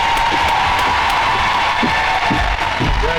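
Crowd at a high school seniors' celebration applauding and cheering, a steady dense wash of clapping with scattered whoops and shouts throughout, loud and continuous.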